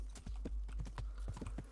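Horse hooves clip-clop steadily along a path in the medieval video game Kingdom Come: Deliverance, a quick irregular run of close, moderately loud hoofbeats over a low constant rumble.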